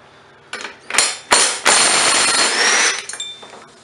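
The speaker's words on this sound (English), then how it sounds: "let's go ahead and pull this flywheel holding nut off of here" A wrench works loose the flywheel holding nut on a Briggs and Stratton lawn mower engine, with sharp metallic clanks and knocks followed by a sustained loud ratcheting grind, close and alone.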